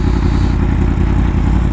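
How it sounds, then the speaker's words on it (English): Yamaha R1M sport bike with a crossplane engine giving a steady, loud, deep exhaust rumble that holds constant throughout, close by and without talk. "Got like the rumble of this exhaust. I just love it. That crossplane, so fun."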